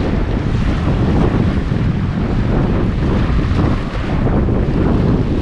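Sea waves and strong wind on the Bulgarian seaside near Burgas in summer: a loud, continuous roar of surf with heavy wind buffeting the microphone, steady throughout with no voices.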